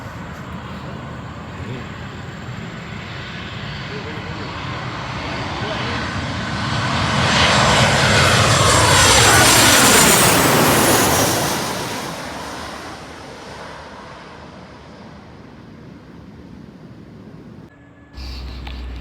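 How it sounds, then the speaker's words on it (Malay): A fixed-wing airliner arriving at KLIA Sepang airport, its engine roar building from a distant rumble to a loud, close pass overhead with a sweeping pitch shift, then fading away into the background. "Okey, kapal terbang dah sampai."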